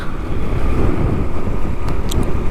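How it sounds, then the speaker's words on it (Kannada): Strong wind roars steadily against the microphone on a forested ghat road ride, a loud, unbroken buffeting rush with no talking. "ಗಾಳಿ ಮಾತ್ರ ಫುಲ್ಲು ಹೆವಿಯಾಗಿ ಬೀಸ್ತೈತೆ ಗುರು"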